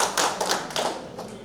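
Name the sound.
applause from the audience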